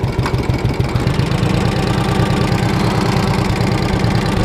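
A 1958 Harley-Davidson Duo Glide motorcycle engine runs close and loud with a steady, pulsing low thump, revving slightly throughout without any voices.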